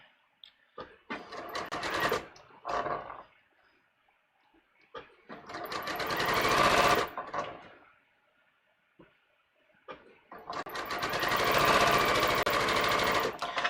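A sewing machine stitches a collar seam in three bursts, each longer than the last, with quiet handling and clicks in the pauses, recorded up close without talking.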